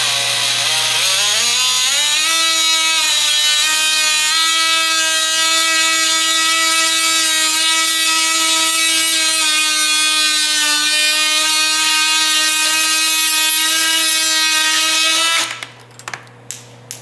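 Power tool cutting through plastic twist-throttle parts on a classic Honda 350 motorcycle: a loud, steady high-pitched motor whine that rises in pitch at the start and holds constant before stopping abruptly.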